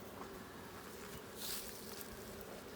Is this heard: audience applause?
no